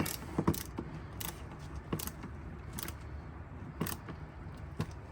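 Ratchet tightening a bolt on a CFMOTO UForce 1000 during its first service, heard as scattered short clicking and ratcheting bursts over a quiet mechanical background, with no talking.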